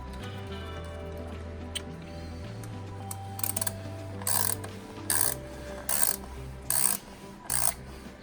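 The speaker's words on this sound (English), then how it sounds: "Using our ratchet to tighten it the rest of the way." A ratchet tightens a 10 mm spark plug coil bolt, first a low mechanical hum, then a series of five or six crisp, close clicking bursts in a steady rhythm, with no talking.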